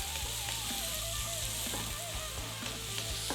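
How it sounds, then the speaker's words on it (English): Onions and celery frying in a pan for a smoky veggie rice, a steady close sizzle with a regular pulse of light stirring scrapes underneath. "Onions and celery in. I'm going to cook those for about 5 minutes."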